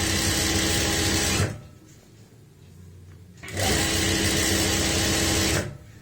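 An electric sewing machine stitches a panel of a princess-cut kurti in two loud continuous runs, the first stopping about a third of the way through and the second starting after a quieter pause.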